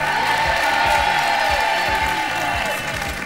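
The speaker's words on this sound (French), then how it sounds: "Et on applaudit très fort Maud et Charles." A TV game-show studio audience applauds and cheers for two contestants, steady dense clapping with whoops over a continuous crowd roar, moderately loud throughout.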